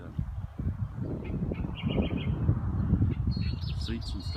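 Birds calling at wetlands near West Wyalong in New South Wales, including pelicans and ibis, with faint chirps and calls in the background beneath a person talking.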